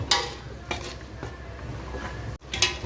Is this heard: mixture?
yes